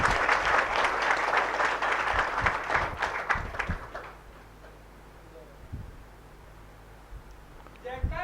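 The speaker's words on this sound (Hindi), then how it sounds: "ताली मार दो भाई।" An audience claps loudly for about four seconds at a devotional gathering, then the applause fades into a quiet room with a few faint sounds and a brief noise at the end.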